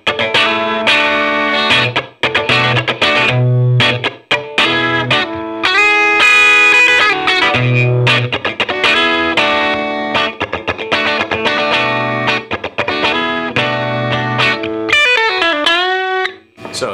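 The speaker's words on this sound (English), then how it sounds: "Now I've got a Joyo American Drive" Electric guitar played through a VHT Standard 12 amp with a Joyo American Drive overdrive pedal engaged, giving a driven, slightly distorted tone. Continuous chords and single-note lines run for about seventeen seconds, loud and close, ending in a bent note.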